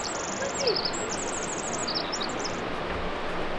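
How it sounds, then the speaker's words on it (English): A Pacific Wren sings from a treetop near a mountain lake in the Chilliwack area of British Columbia, giving rapid high, thin trills and warbled phrases throughout, fairly faint above a steady broadband hiss of wind or water. "It's a tiny little bird with a beautiful high-pitched song."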